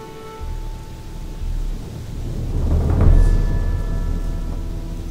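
Steady rain hisses in Gothic 2, a broad wash of sound that swells over the seconds with a low rumble beneath, no voices.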